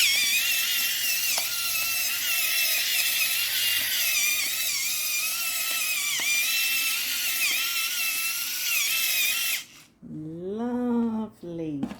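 An electric pepper mill grinds a pepper medley with a continuous high, buzzing whir for about ten seconds, then stops; afterwards a voice speaks nearby.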